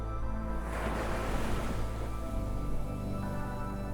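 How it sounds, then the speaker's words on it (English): Gentle ocean waves lap steadily against the shore in a continuous, soft wash of surf, close and even, with no voices. "The sound of water lapping against the shore, slow and steady like the heartbeat of the ocean."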